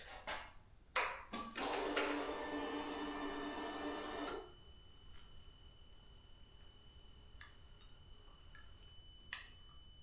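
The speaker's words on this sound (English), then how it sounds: "now I heard a fuel pump" The fuel pump on a wrecked 2022 Suzuki GSX-R1000R whirs with a steady hiss for about three seconds after a few sharp clicks, then cuts off, leaving quiet with occasional faint ticks.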